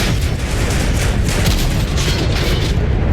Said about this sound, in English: They're coming in heavy with the autocannon